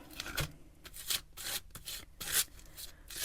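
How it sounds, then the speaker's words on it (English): Paint is scraped across collage paper in a series of short, close rasping strokes, roughly six or seven passes with brief gaps between them, with no voices. "I'm going to scrape this on"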